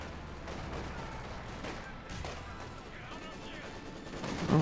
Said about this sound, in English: All right, I'm throwing grenades in there.